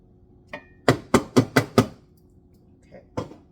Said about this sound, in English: So what I'm going to do is grate about a teaspoon.